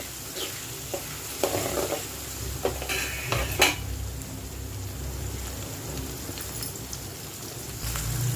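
Onion and green chillies fry in a pan for a fish fry curry, giving a steady close sizzle with a few scrapes and clinks of stirring and no talk.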